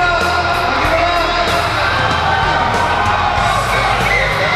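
A loud crowd yells, whoops and cheers continuously for an arm wrestler at a 2013 arm-wrestling event, shouting voices overlapping in a dense, steady roar.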